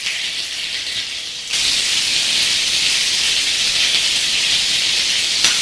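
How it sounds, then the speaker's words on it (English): Italian sausages sizzle in a frying pan with a loud, steady hiss that jumps louder after a moment and holds, with no voices over it. "our sausages are cooking nicely"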